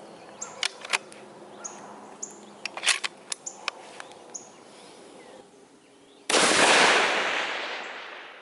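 A long-range rifle fires at a distant target at 620 yards outdoors, one loud abrupt blast near the end after several seconds of insects buzzing and faint clicks.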